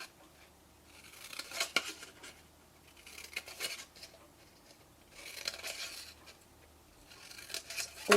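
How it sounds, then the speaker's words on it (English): Scissors snip through patterned cardstock along score lines while making a hexagonal tea light box, short crisp cuts coming in several bursts separated by quiet pauses, close and fairly soft. "So lose the little skinny one, and then cut up all of the other score lines."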